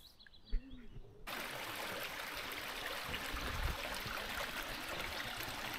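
A stream flows steadily along the Knapdale beaver trail in Scotland, a continuous broadband rush of water that begins after a brief quiet moment with a soft knock, then holds loud and even throughout.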